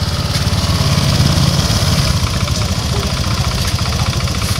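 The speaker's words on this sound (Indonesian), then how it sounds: "starter ini langsung hidup, langsung nyamber ya" A Honda Vario 150/125 motorcycle engine runs at a steady idle after starting, a continuous close, loud mechanical drone with a low rumbling pulse throughout and no talking.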